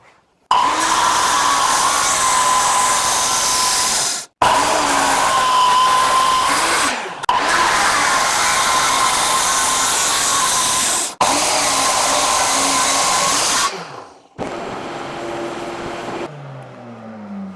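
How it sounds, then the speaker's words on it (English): A power saw cuts through hardened steel spiral nails in a wooden bowling alley lane, a loud, steady, close whine in several long bursts with brief stops, then a lower winding-down tail. "So I kind of don't have a choice but to do it with this saw here."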